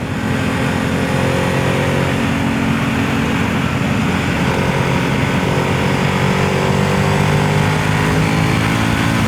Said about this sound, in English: this thing is just a gentle thrumming just to let you know it's still there